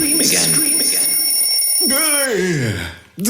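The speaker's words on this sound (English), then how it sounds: "Don't think about the alarm." An alarm clock rings with steady high-pitched tones, loud and close, while a voice talks over it before the ringing cuts off and a rising, sliding tone follows.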